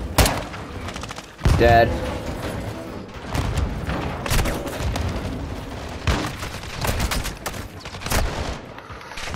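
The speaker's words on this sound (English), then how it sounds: "Incoming! Take cover! They're launching grenades!" Grenade explosions and gunfire in the video game Call of Duty: Modern Warfare II, a run of sharp booms and rattling shots at varying loudness, with a voice speaking briefly over the combat.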